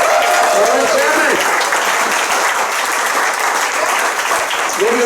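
An audience at a Bernie Moreno U.S. Senate campaign event applauds loudly and steadily for several seconds, a dense, sustained wash of clapping filling the room.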